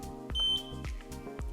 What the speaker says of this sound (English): the scooter beeps into life